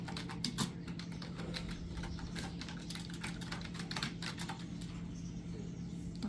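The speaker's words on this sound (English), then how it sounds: "I can type something." Someone types on a computer keyboard: a steady run of quick, light key clicks at close range against a faint constant hum, with no talking.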